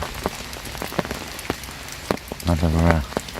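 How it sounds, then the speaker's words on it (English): Rain falls at a lake during a carp fishing session, with steady patter and irregular drops tapping close on a surface, and a voice briefly speaking over it. "well, it's raining"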